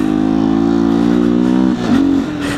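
A 2019 Beta 125 RR S motorcycle engine holds a smooth, steady buzzing drone close by, then dips briefly and rises again in a short rev, with no talking.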